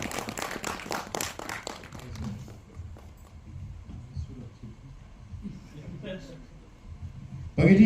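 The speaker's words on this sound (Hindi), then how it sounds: "एक बार जोरदार तालियां फॉर पंकज त्रिपाठी जी।" An audience at a Delhi PVR cinema claps for actor Pankaj Tripathi during a promotion event for the film Main Atal Hoon. A dense burst of clapping fills the first two seconds, then fades into quieter murmur and voices.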